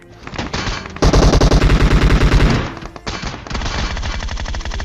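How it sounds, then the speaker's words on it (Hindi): Rapid automatic gunfire rattles loud and close in a video game, a sustained burst followed by further bursts of shots, with no talk. "यहाँ पे फायरिंग होनी स्टार्ट हो जाती है"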